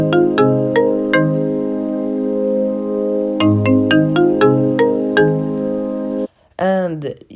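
An iPhone ringtone from AnyTunes plays a bright, repeating melody of bell-like plucked notes over a sustained chord, loud and close, then cuts off abruptly before a short burst of another sound.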